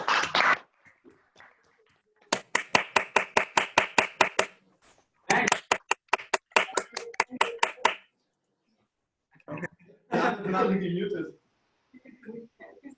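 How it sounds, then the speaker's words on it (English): Participants in an Erasmus online meeting clap in two quick, evenly spaced runs of sharp hand claps over a microphone. Short bits of talk follow after a pause. "We applaud already."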